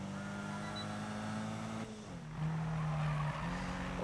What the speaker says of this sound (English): that drift killed the FPS